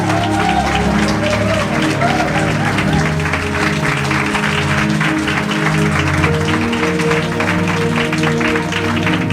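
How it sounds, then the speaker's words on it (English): An audience at an evening conversation event claps together in sustained, dense applause with a murmuring crowd beneath, steady and full for the whole stretch. "Come on, clap your hands, everybody."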